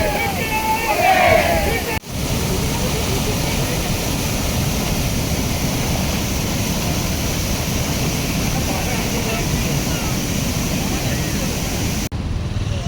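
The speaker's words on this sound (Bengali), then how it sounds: "এই যে ঝর্ণাটা আপনারা দেখলেন যে আলাদা আলাদা ফ্র্যাগমেন্টসে পড়ছে" A steady, dense roar of a waterfall falling in separate fragmented streams fills the whole stretch, with brief voices near the start.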